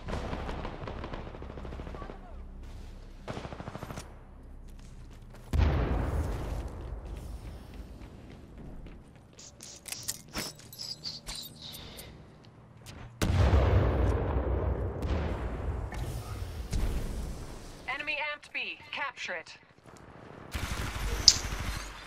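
Gunfire and explosions from the Titanfall 2 multiplayer video game: scattered sharp shots, automatic bursts and heavy booms spread over the stretch, with quieter gaps and some faint voices between them.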